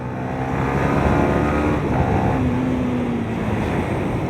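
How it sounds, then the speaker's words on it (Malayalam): A motorcycle engine blipped on the throttle during a gear shift, heard as a loud, close, steady engine drone with a brief rise in pitch near the middle and no talking. "ഇതിലാണെന്നുണ്ടെങ്കിൽ നമ്മൾ ത്രോട്ടിൽ ബ്ലിപ്പ് ചെയ്യുന്നു."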